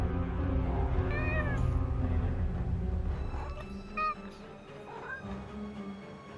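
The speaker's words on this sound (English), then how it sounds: "Is that a cat?" A cat in the video game Forspoken meows several times, rising drawn-out cries close up over a rumbling game soundscape that thins out, with a couple of shorter, fainter mews toward the end.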